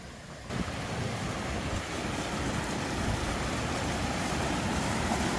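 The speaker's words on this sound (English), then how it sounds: "Oh, it's not the wind, it's another river crossing, or a water crossing." Rushing water at a river crossing on the Pacific Crest Trail makes a continuous, broad roar close by, steady and unbroken throughout with no voices.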